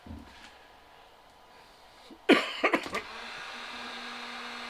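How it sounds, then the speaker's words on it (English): A heat gun switches on with a sudden burst and a few sputters, then settles into a steady, moderately loud blowing hum, used for vacuum forming stencils in a workshop. "And then we start up our heat gun."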